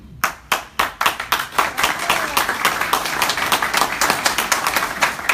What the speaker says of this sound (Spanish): Para ellos un aplauso también